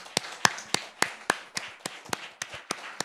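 Church congregation clapping in praise, a steady series of sharp, distinct claps at a brisk, even tempo from a small group, fairly close and clear without talk.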